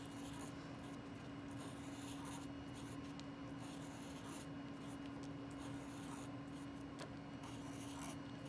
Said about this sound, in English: Never a bad idea to give it an eraser bath.